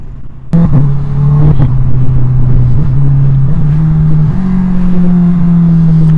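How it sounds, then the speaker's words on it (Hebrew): A Honda CBR650R motorcycle engine starts and revs loudly and close by, holding a strong steady drone that climbs slightly in pitch, with no talk over it. "אני מנסה לתת לכם טיפה בשביל כאילו שתראו את הכוח של האופנוע"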